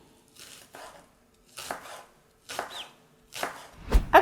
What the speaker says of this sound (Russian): Режем как можно мельче.